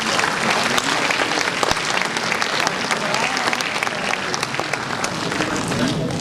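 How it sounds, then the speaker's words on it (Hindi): Steady, dense applause from a ceremony audience, even and sustained throughout with scattered sharp claps standing out. "कृपया तालियों से स्वागत करें।"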